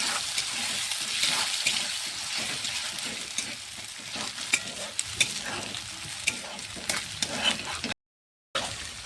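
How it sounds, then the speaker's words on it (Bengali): Two eggs, salted, fry lightly in hot oil with a continuous close sizzle. Repeated scraping and stirring strokes come in an uneven rhythm, louder toward the end. "তার মধ্যে দিয়ে দিব 2টা ডিম। ডিমগুলোকে একটু হালকা হালকা করে ভেজে নেব।"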